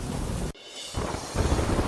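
Heavy monsoon rain with thunder in Rajasthan's Ajmer district: a steady roar of downpour broken by a sudden deep dropout, then the rain and rumbling swell back louder, with no voices.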